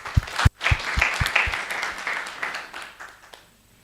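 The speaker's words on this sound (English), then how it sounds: "Let's give Dr. Baraza a clap" A symposium audience claps for a presenter, a burst of many hands that starts with a few sharp near claps, swells, then thins out and fades to quiet.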